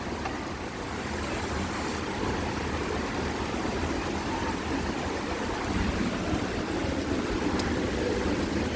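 Heavy rain pours down steadily during a Kalbaishakhi (nor'wester) thunderstorm, a dense, loud, continuous roar of falling water that holds even throughout with no voices.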